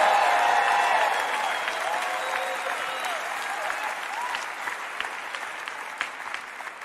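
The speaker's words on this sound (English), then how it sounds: "give the Lord a hand clap, a shout, a praise" A church congregation claps in praise during a charismatic sermon, a loud dense burst at first that gradually thins into scattered claps, with faint voices and a few cries rising over it.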